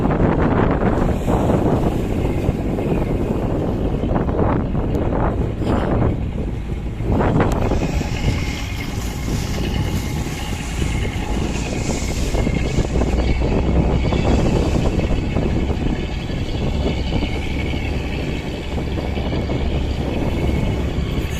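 A boat crosses the sea between the northern and southern waters along the Rama Setu shoals, with a constant loud roar of wind buffeting the microphone, rushing water and a low engine drone and no voices.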